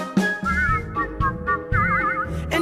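A person whistles a cheerful, wavering tune in short melodic phrases over a steady musical backing at Disneyland, close and clear.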